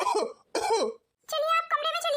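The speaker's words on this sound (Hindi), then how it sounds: "देखिए कितनी खांसी उठ रही है।" A man coughing at home in a family drama: two harsh, close coughing bursts followed by a strained, voiced rasping cough, loud and alone.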